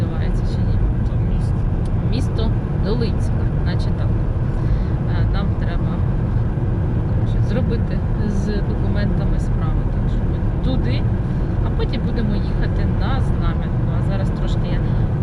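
Steady low rumble of a car driving on roads in the Kirovohrad region, continuous road and engine noise from inside the vehicle, with people talking over it.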